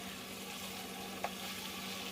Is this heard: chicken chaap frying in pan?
yes